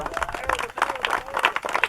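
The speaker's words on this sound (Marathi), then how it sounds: "टाळ्या वाजवा" An audience claps at a village welcome ceremony for a cricket team, a dense patter of hands that rises and falls over a couple of seconds.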